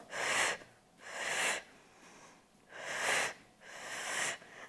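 Four breathy exhalations during a Pilates exercise, evenly spaced and fairly faint, each a soft airy blow lasting under a second, with quiet pauses between.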